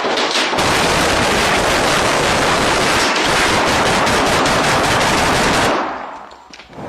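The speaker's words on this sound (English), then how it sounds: "The suspect's relentless gunfire left the officers unable to breach his door without risking being shot" Relentless automatic gunfire from a suspect during a police standoff, a dense continuous barrage of rapid shots lasting several seconds, loud and close, before abruptly stopping.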